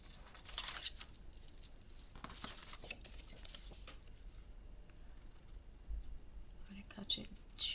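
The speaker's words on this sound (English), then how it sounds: "I'm going to use my scissors to cut this one out." Scissors cut paper while a piece is trimmed out along a pencil line for a handmade art memory book. The snips and rustles are soft and close, coming in quiet irregular bursts.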